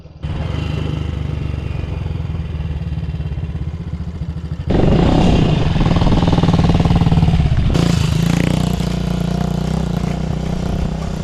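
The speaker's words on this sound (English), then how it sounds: "let's find out if the little Cub can go off-road" A small Honda Cub motorcycle rides along a dirt green lane off-road, its engine buzzing steadily and loud, then rising in pitch as it revs harder over rough ground with some rattling.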